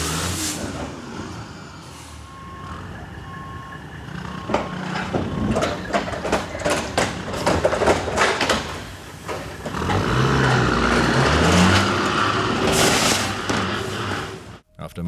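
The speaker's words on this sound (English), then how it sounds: "a large truck trying to make a turn, with a safety bollard trapped beneath its container" A large truck with a safety bollard trapped beneath its container grinds and strains through a turn, with heavy engine rumble, repeated scraping and banging impacts, and a long loud grinding surge toward the end.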